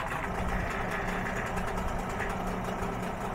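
A Hidea 9.8 hp or Mercury 15 hp two-stroke outboard motor idles steadily just after an easy pull start, a close, even low drone with a faint rattle, no one talking.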